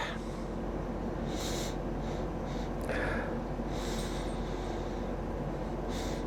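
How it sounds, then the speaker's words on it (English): Several short sniffs close to the microphone at a glass of Staropramen 12° Czech amber lager, each a quick breathy inhale, over a steady low background hum. "Let's give it a sniff."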